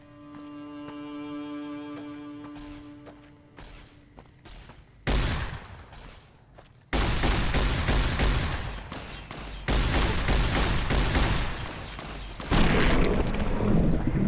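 Shotgun blasts in Fallout New Vegas fired at a Cazador nest, a dense barrage of booming shots and impacts that grows louder and busier over time after an opening stretch of quieter game ambience.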